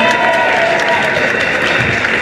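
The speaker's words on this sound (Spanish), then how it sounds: "Un fuerte aplauso para Natalia." A loud, dense round of applause from the audience at a singing contest elimination round, a continuous wash of many hands clapping that stays steady and close throughout.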